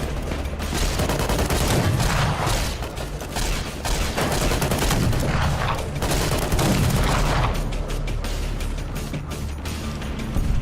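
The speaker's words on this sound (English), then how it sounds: "Maybe I should just use my scouting laser rifle." A scouting laser rifle fires in Fallout New Vegas, a dense run of rapid, loud mechanical zaps and clatter that continues almost without pause for about ten seconds.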